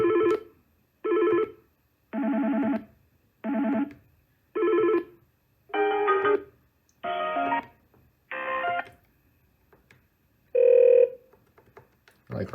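A series of FreePBX phone ringtone samples plays one after another: about nine short, evenly spaced electronic ring bursts, each with a different pattern, clear and close with silence between them.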